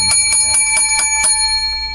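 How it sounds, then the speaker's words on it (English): Bells ring in a quick, evenly spaced series of about seven bright, loud strikes, each leaving a sustained metallic ring that lingers and fades after the last one. "I forgot to ring the lucky number 7 bells for the show."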